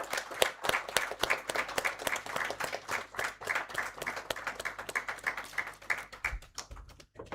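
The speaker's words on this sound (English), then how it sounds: "Applause, everyone." Audience at a graduation ceremony applauding a felicitation, a crisp sustained round of many hands clapping that thins out and stops near the end.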